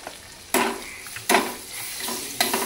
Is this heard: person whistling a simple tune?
no